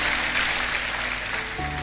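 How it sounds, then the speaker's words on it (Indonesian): A church congregation applauds during a sermon, a steady wash of many hands clapping at moderate distance, with a faint tonal hum beneath. "Nah yang ini boleh tepuk tangan buat Tuhan Yesus."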